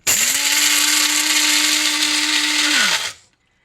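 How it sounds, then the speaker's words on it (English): An electric grinder whirs through coffee beans and cinnamon bark in one loud, steady burst of about three seconds, then winds down quickly into silence. "And then you grind it. Very simple. You just push the little button up here."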